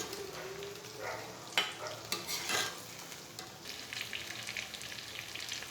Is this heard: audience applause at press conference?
no